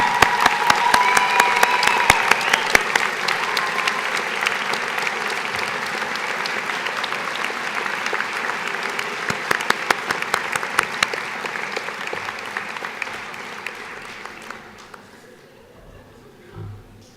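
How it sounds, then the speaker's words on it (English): At the Franklin University Switzerland 2017 commencement ceremony, the audience gives long applause for graduates' families, with sharp individual claps standing out over the crowd before it thins and dies away to near silence. "please recognize with your applause these members of your family who have done so much to support you while you were at Franklin"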